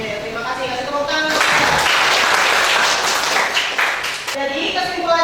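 An audience applauding after a presentation on artificial intelligence, a dense burst of clapping that rises mid-clip, with talk heard before and after it.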